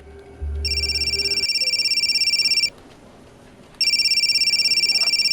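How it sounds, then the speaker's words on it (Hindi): A phone rings with a bright electronic tone in two long bursts separated by a short pause, loud and close, following a brief low thud at the start; no one speaks. "मेरी मम्मी का फ़ोन है, क्या मैं ले सकती हूँ?"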